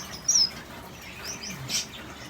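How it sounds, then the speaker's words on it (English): Small birds chirping in an aviary at breakfast time, with rosy bourkes and button quail among them, giving a few faint, brief high tweets over a quiet hiss. "We've got the birds out in the aviary finishing breakfast."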